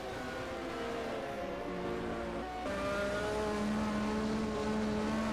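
Formula 1 cars at the 1986 Brazilian Grand Prix, engines wailing in sustained high-pitched tones that shift as they rise and fall through gears, a steady distant-to-mid-range whine with no talk.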